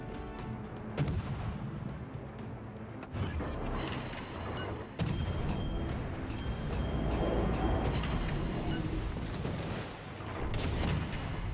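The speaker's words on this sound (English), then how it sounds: "Enemy destroyer blown up." Explosion of an enemy destroyer in the naval game World of Warships, with heavy booming blasts and gunfire-like bursts repeating through a dense, loud battle soundscape.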